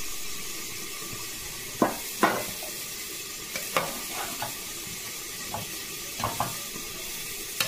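Water poured into a hot pan of kofta curry with tomato and salt, giving a steady low sizzle punctuated by several sharp clinks and stirring scrapes.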